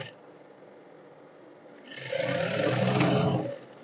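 A sewing machine runs a straight stitch through layered fabric for a bowtie. After a low, quiet hum, it breaks into a nearby steady whirring rattle for about a second and a half, then stops abruptly.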